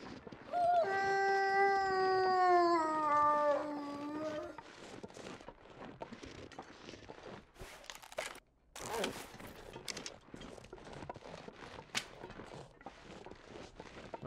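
A wolf howls in The Long Dark survival game, a long wavering tonal cry held for several seconds at the start, followed by rustling movement and footsteps over an outdoor ambience.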